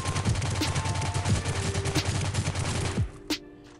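Rapid automatic gunfire from a QBZ rifle in the video game Rules of Survival, a dense burst of shots for about three seconds that stops abruptly, followed by a single faint click.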